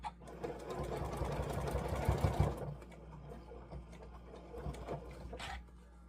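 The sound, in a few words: sewing machine stitching quilt block seams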